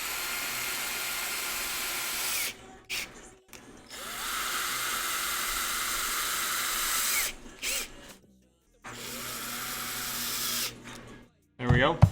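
An electric drill spins a part while a Traxxas 2WD RC transmission is being rebuilt, whirring loudly in three long bursts separated by short pauses and clicks.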